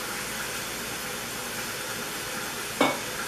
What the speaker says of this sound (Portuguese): Dei uma refogadinha na cebola